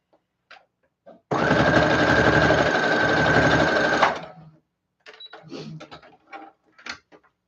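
A sewing machine stitches a second seam along a bridesmaid gown, a loud, close, continuous whirring run of about three seconds that stops abruptly. Scattered handling clicks and rustles come before and after.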